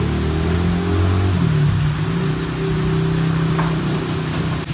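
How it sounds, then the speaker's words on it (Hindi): Heavy rain pours steadily in Sialkot, Pakistan, a dense, loud, continuous hiss with no break and no voices. "ये देखें पीछे बारिश बहुत ज़्यादा हो रही है"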